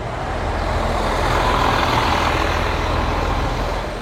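A city bus at the Aachen bus station rolls past close by, its heavy engine giving a loud, steady rumble with a broad hiss that swells a little and holds for the whole stretch.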